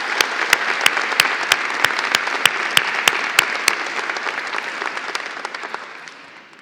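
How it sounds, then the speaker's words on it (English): A convocation audience at Bow Valley College claps in a large hall, sustained applause with a few sharp, regular claps standing out, then slowly fading toward the end. "let's give them a round of applause to recognize their commitment"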